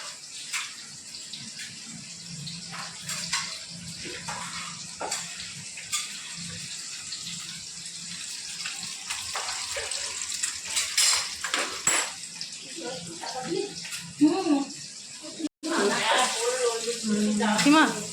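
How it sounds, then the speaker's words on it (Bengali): A busy home kitchen with running water, clattering pots and dishes, and clinking utensils. The sounds continue steadily while voices talk nearby, and loud speech closes the scene. "জোর কদমে রান্না চলছে এখন।"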